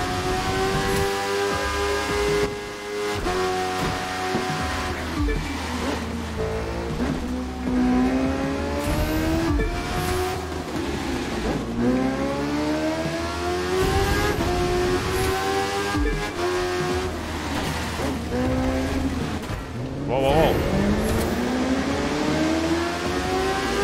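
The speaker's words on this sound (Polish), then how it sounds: "tym Suzuki bardzo fajnie się jeździ na tej trasie. Tak czuć tą prędkość" Suzuki GSX motorcycle ridden in the racing game The Crew 2, its engine note rising and falling continuously through repeated gear shifts, loud and steady throughout with no talking.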